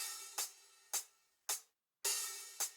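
Compressed hi-hat from a MIDI drum kit plays a sparse pattern of bright hits, some open and sustained, others short and closed, with even, clamped loudness and brief gaps of silence.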